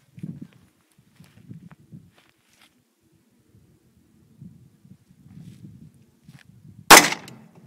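A single sharp gunshot cracks out near the end, fired at cans on an outdoor range, preceded by soft footsteps and low shuffling sounds, with no talk.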